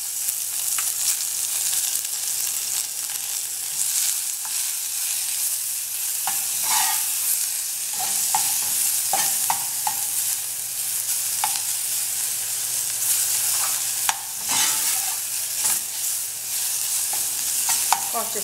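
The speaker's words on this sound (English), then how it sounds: "I'm gonna let that heat up very nicely, and then I'm going to add the onions and the garlic, peppers, shadow benny" Onions, garlic, peppers and shadow benny fry steadily in a hot pan for a Trinidad-style smoked herring dish, a constant close sizzle with occasional stirring scrapes and clicks throughout.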